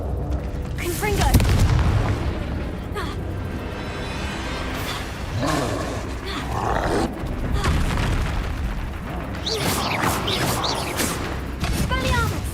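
Confringo spell explosions in Hogwarts Legacy, a series of deep booming blasts and rumbling impacts from a combat scene, mixed with shouted spell calls and other game effects.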